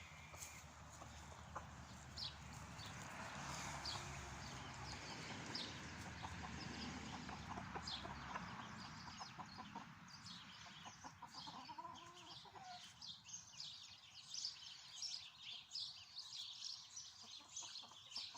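A rooster clucks and croons repeatedly nearby on a homestead, with hens chattering softly in the background.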